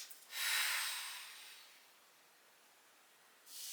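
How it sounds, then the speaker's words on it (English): A slow, deep breath during a yoga hip stretch at a wall: a soft, breathy inhale-exhale rush that swells early and fades out, with a second breath starting at the end, close and quiet, with no talking. "deep breath in and out"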